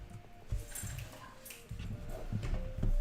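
A puppy whimpers and whines in short, uneven bursts at close range, with scuffling and bumps around it in a home setting.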